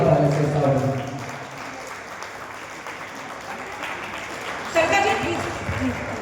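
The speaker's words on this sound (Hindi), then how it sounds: "जोरदार ताली से स्वागत।" Loud applause from an audience welcoming guests at a cultural event, a steady clapping wash that swells again near the end, with a voice speaking over it.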